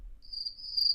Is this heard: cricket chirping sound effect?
yes